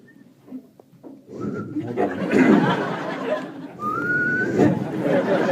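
A comedian whistles a few rising, wavering notes amid chatter and laughter from several people nearby at a comedy club in San Francisco.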